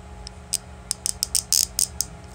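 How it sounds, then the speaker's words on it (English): Small squeaky creaks from a Beyblade being modified, several short high-pitched bursts in an irregular cluster, close up with no talk over them. "if you guys hear like that little like squeaky noise like right here"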